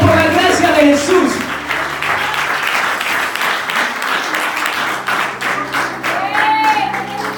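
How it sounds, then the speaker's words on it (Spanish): A church congregation claps and cheers during a sermon, dense applause that starts strong and fades, while a voice speaks and sustained keyboard tones play underneath. "dale un fuerte aplauso a Dios"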